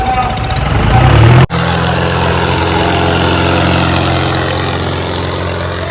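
A heavy diesel tractor engine idles with a steady low rumble, close and loud, briefly revving before settling into an even chug, at a village three-cylinder tractor trolley-pulling contest.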